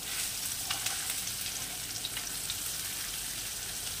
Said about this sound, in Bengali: শুধু মাছটাকে একটুখানি ভালো করে আমি সাঁতলে নেব, যাতে কাঁচা না থাকে, কিন্তু একদম কড়া ভাজবো না।